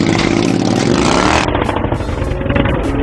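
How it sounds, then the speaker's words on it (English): A big-bike motorcycle engine runs steadily while the bike is walked up a loading ramp onto a pickup truck bed using the clutch friction zone, a loud close rumble with a brief rising rev before settling into a lower throb. "If you do walk the bike up the ramp, walk it up using the friction zone of the clutch."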